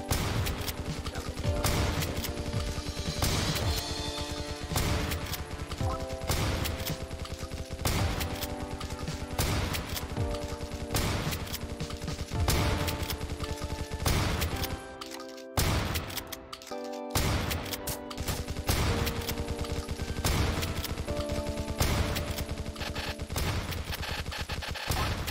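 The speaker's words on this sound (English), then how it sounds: "Dodging the enemies with bullets." Rapid gunfire from enemies in a Roblox video game crackles almost without pause, dense repeated shots layered over game music, loud and busy, with a brief lull midway before the firing resumes.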